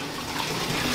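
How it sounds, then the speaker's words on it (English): Bath water rushes down through an opened drain valve during a Vizsla's bath, a steady close gurgling flow lasting about a second with no talk. "So we'll just let the valve go here so that water starts going down"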